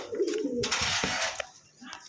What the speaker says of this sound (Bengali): এখানে একজন হাইফাই গিরিবাস কবুতর আছে